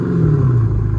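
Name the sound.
car revving with aftermarket exhaust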